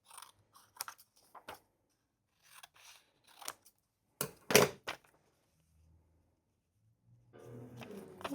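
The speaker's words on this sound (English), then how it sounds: "But this I'm going to cut down." Scissors snip paper for a journal in a run of crisp, close cuts, some single and some in quick pairs, ending with a rustle of paper being handled.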